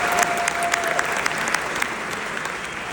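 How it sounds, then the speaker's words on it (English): Crowd applause at a fight-event interview, a dense, steady clatter of many hands clapping throughout, loud and continuous with scattered sharper claps. "give a round of applause,"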